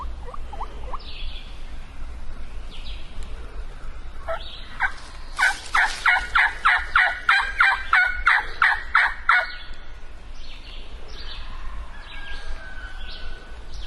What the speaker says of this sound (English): it don't sound like neither one of those 2 gobbles I just heard